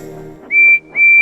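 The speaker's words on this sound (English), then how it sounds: "Whistled Percy, rushing into the yards" Two loud, shrill steam engine whistle blasts, each held about a quarter second, separated by a brief gap, over low background rumble in a rail yard.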